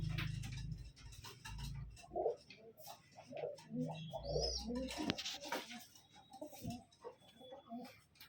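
Tournament pigeons coo repeatedly in a soft, close chorus of low burbling calls, with scattered chirps and rustling over a steady background murmur.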